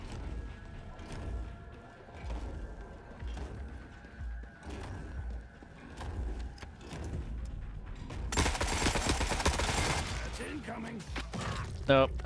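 Gunfire rattles through a battle in the video game The Forever Winter, scattered shots giving way to a loud sustained burst of automatic fire near the end, with mechanical clanks throughout.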